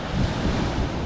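Ocean waves roll in while surfing a small twin-fin fish board off Mexico, a brief wash of surf mixed with heavy wind buffeting the microphone, with no talk.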